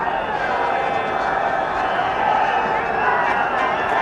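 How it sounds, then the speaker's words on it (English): A cricket crowd at a 1983 World Cup match between India and England, a steady, distant murmur of many voices from the stands, with an Indian section disagreeing with the umpire, under a commentator's talk. "But Indian section of the crowd not quite in agreement with him"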